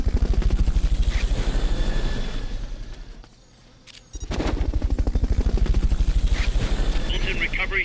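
A helicopter in the video game Metal Gear Solid: Peace Walker beats with loud, close, rapid rotor thumps that fade briefly midway and then return strongly, with a voice speaking over it.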